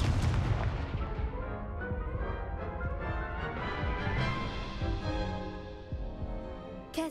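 Incendio fire spell being cast in the video game Hogwarts Legacy: a loud crackling, rushing blast with sharp bursts that fade over several seconds, no speech.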